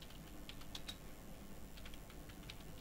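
Faint keystrokes on a computer keyboard as text is typed into photo-editing software: a few scattered, light clicks in two short bursts over a quiet room hum.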